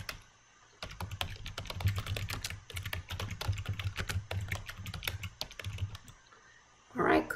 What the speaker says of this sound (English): we want to type consolidated expenses worksheet